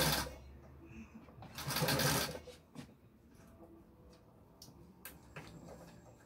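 A sewing machine stitching a fabric hot paws pack, with short bursts of rapid mechanical whirring as it back stitches and then forward stitches, separated by quieter handling noises and a few sharp clicks.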